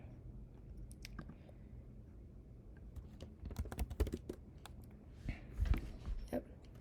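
Keys tapped on a computer keyboard, a run of sharp, uneven clicks close by that cluster more densely toward the end, over a quiet background.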